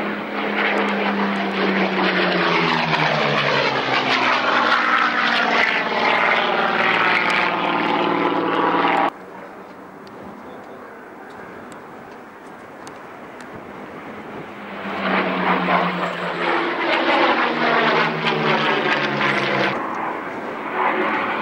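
A Mark V Spitfire's aircraft engine roars loudly and steadily at the 1999 Duxford autumn air show, drops to a quieter drone for several seconds as it passes, then swells again to a strong, close roar.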